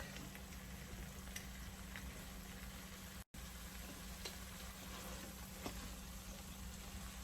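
Spices for bhindi masala sizzle steadily in a pan at low volume, with a soft continuous fry and occasional faint stirring scrapes, with no talking.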